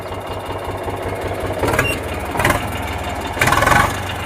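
A tractor engine, an Eicher 485 or Mahindra, runs steadily at idle close by, a loud even diesel chug that swells briefly in a few revs and throbs.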